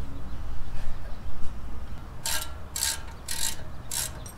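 Ratchet wrench tightening a front brake bolt on a 2013 Toyota FJ Cruiser, four quick bursts of clicking in the second half, close and fairly loud over a low background rumble.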